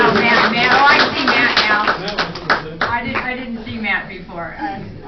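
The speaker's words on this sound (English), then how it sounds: "we'll give you a applause too" Applause at a water district board meeting, a short burst of hand clapping from a small group that thins out, with people talking over it.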